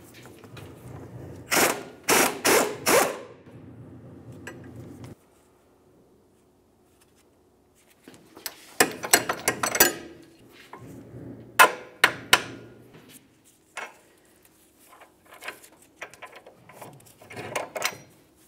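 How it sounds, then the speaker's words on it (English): Removing a 21mm nut and shock mounting bolt on a 2009-2019 Ford Flex during a rear CV axle job: bursts of sharp metallic tool clatter and impact-like hits, a clustered group, a pause, then scattered knocks and rattles, close and fairly loud. "Let's go ahead and remove the nut and the mounting bolt."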